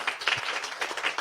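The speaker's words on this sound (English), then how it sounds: "How about a round of applause?" A community audience at a Seattle radio event claps in scattered, uneven bursts, moderately near and not very loud, with no voices over it.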